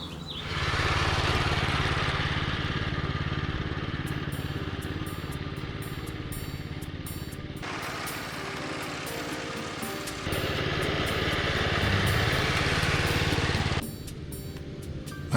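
Reel mower cutting a front lawn at a 1 1/4 inch height, a steady continuous whirring drone close by that stays loud throughout with slight shifts in tone, no talking.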